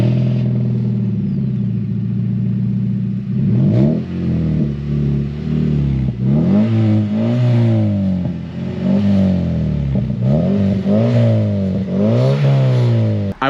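A Mazda MX-5 NC fitted with an unidentified aftermarket exhaust revs repeatedly at close range, each loud throttle blip rising and falling in pitch over a steady idle, with no talk over it.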